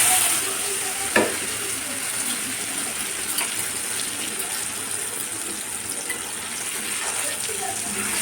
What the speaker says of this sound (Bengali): তেলটা গরম হয়ে গেছে, পনিরটা দিয়ে দেব